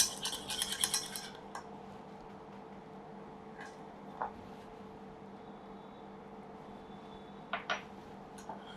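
Vanilla is mixed into whipping cream in a bowl, starting with a quick burst of clinking utensil taps, then a few scattered faint clinks over a quiet background.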